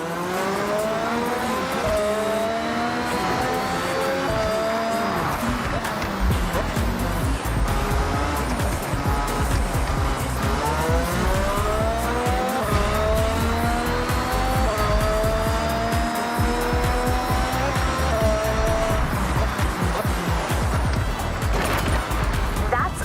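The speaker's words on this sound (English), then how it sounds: "This is a PR stunt, so get to the end drifting as much as possible." Tyres squeal continuously as a car drifts through a drift zone in Forza Horizon 6, the engine revving and wailing in long rising sweeps, loud and close, with a voice talking over it.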